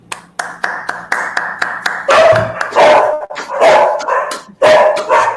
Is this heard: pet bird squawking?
no